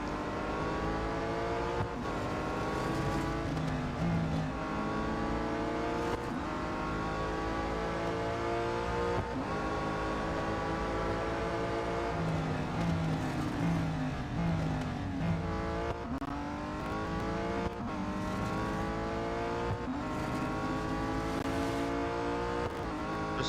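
Several Morgan Plus 6 race cars in Real Racing 3 roar continuously, engines revving and shifting through gears with rising and falling pitch, a steady loud racing drone with no talk.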